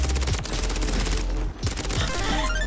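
Rapid automatic fire from an ISO 9mm submachine gun in Modern Warfare 3, loud and close, with continuous bursts briefly pausing midway before resuming.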